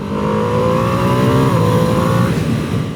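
Engine induction roar from a 2025 Ducati Panigale V2S sports motorcycle while riding, a loud, steady droning hum with a slight pitch shift, close and continuous with no talking.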